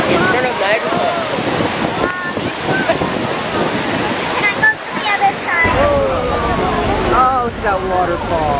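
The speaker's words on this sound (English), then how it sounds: "Oh, look at that waterfall." Niagara Falls roars as a steady, loud broadband rush of falling water with wind buffeting the microphone, while excited voices talk and exclaim over it throughout.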